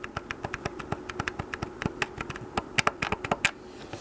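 Clicky analog stick on a Power-Joy PJ-008 Famicom-clone handheld controller, tapped in a quick run of sharp plastic clicks, close and fairly steady, with a few louder snaps toward the end and no talking.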